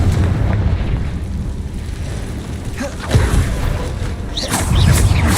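A Confringo blasting curse goes off in Hogwarts Legacy, a booming fiery burst amid a dense rumbling game mix, with a louder impact rising near the end and other spell effects crackling around it.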